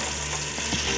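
Curry leaves fry in a home-kitchen pan for curry-leaf rice, giving a short, steady, close sizzle with no voices.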